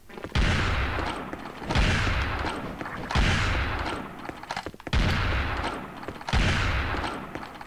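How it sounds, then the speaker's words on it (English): A shotgun fires in the video game Serious Sam: Next Encounter, five loud booming blasts at a steady rhythm about every second and a half, each with a long rumbling tail that fills the gap before the next shot. "I love this shotgun so much."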